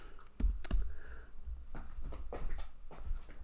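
Python code typed on a computer keyboard: a couple of louder key strikes early, then a steady run of soft, close clicking and tapping, fairly quiet, with no talk.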